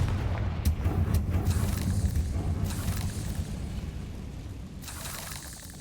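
A Confringo explosive spell going off in the Hogwarts Legacy video game, a loud rumbling blast with booming low end and crackling bursts that sustains for several seconds before easing slightly.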